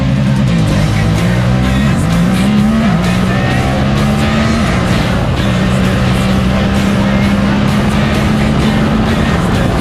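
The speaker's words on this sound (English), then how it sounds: "we're cruising it in this brand new Honda Talon" A brand new Honda Talon side-by-side drives along with a loud, continuous engine roar close by, its pitch climbing and settling as the throttle changes, and nobody speaks.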